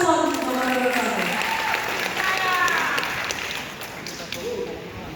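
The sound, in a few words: audience applause for candidate pair number 1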